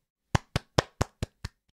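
Six sharp hand claps in a steady, evenly spaced rhythm, close and fairly loud, followed by silence and a faint final tap.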